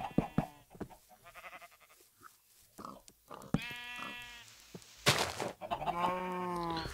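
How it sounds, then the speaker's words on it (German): Several sheep bleat in Minecraft, with short wavering cries spread across the stretch, a louder bleat near the end, and blocky game sounds and clicks in between. "Ein paar Schafe. Ja, ein paar Schafe auch."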